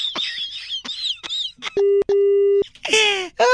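A telephone busy tone sounds after a call is disconnected during a radio prank call, two loud, steady beeps, one after the other, set between snatches of distorted phone speech.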